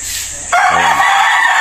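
A young gamecock stag on a fighting-rooster farm lets out a single loud, close crow, rising sharply and then holding a bright, buzzing note until the end.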